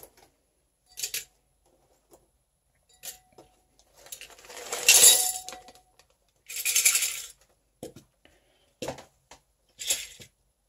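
Gold-plated metal pieces dropped into a glass for stripping, giving scattered bright clinks and a couple of longer jangling tumbles, close and loud, separated by silent gaps.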